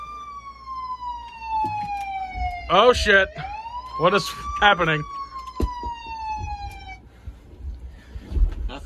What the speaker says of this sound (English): Just an ambulance noise.